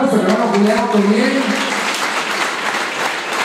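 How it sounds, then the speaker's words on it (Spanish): A church congregation gives a singer a loud round of applause, a burst of dense clapping that fades over a few seconds, with someone speaking over its start. "Le damos un fuerte aplauso"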